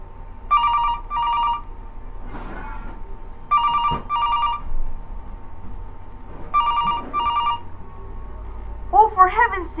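An old-style telephone rings in repeated double bursts, three times, with a voice speaking softly between the rings.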